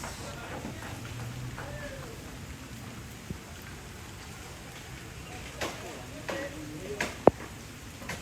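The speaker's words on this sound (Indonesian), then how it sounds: "Hujan guys." Rain falls steadily as a continuous hiss throughout, during outdoor preparations for a Rambu Solo' funeral ceremony in Tana Toraja, with a few louder knocks and thumps near the end and some voices talking.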